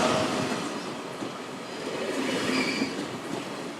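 Trains move at Gwangju Station, served by KTX, Saemaeul and Mugunghwa services, giving a steady, fairly loud rumble of wheels on rails with faint squealing tones, and no voices.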